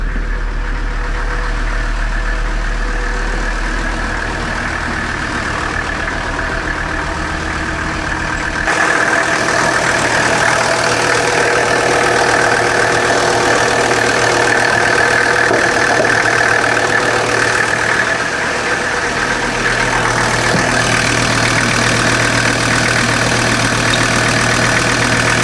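A 1984 Mercedes-Benz engine, abandoned and previously seized and now low on transmission fluid, runs at a steady idle, then grows louder and rougher with a knocking edge after being revved, continuing alone without voices.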